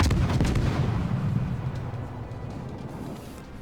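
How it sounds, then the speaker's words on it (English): Naval guns firing in World of Warships, a loud booming salvo at the start that rolls off into a long, fading rumble with no talk over it. "So I fire off the guns"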